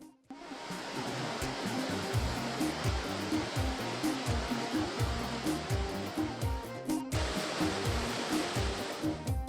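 The Blue Nile waterfall in Ethiopia roaring as a loud, continuous broadband rush of falling water with low churning pulses, steady throughout and free of voices.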